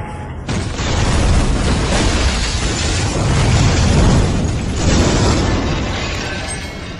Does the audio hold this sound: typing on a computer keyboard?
no